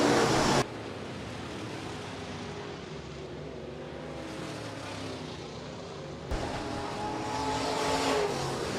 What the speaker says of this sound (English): final circuit around the Speedway for heat race number 1 of 3